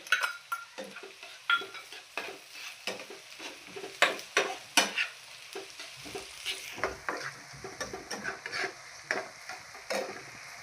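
Tomatoes sizzling and frying in a pan for Marathi-style fried chutney, stirred with a utensil that scrapes and clinks repeatedly against the metal, close and steady throughout.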